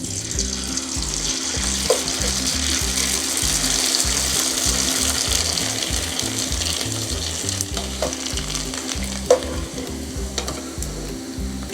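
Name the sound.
potato chips frying in oil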